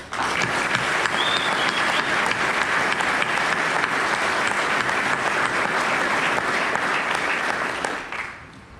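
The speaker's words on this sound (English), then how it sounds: "if everybody can join me in a round of applause" A crowd at an Air Force retirement ceremony applauds loudly and continuously for about eight seconds before the clapping tapers off at the end.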